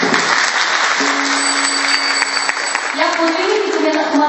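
A crowd at a Marathi Varkari kirtan claps in loud, dense applause throughout, with a faint sustained tone and some murmuring voices mixed beneath the clapping.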